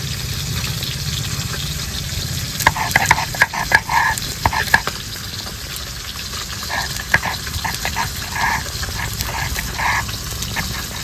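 Pieces of rohu fish frying in hot oil in a home kitchen make a steady sizzle, broken by scattered crackles, pops and stirring scrapes, close and without talk.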